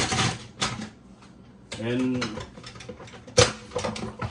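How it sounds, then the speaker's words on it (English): A kitchen food processor runs in short pulses to grind fish for Moroccan-style fishcakes, giving brief whirring bursts separated by pauses, with a person talking between them. "so I'm gonna use the pulse just to grind it,"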